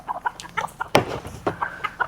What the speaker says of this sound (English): that's our little rooster